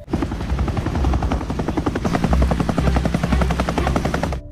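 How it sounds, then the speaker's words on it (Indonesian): A helicopter's rotor thumps in a rapid, steady rhythm, loud and close, with a dense engine roar underneath throughout. "Jack dan Kate mendengar suara helikopter."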